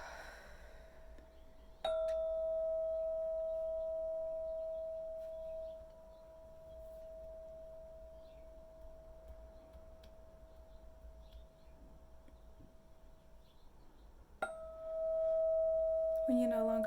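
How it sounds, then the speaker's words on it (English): A meditation bell rings out in a quiet room as a mindful-eating practice draws to a close. It is struck clearly, hums on with a steady tone and slowly fades, then is struck once more near the end. "When you no longer hear the sound of the bell"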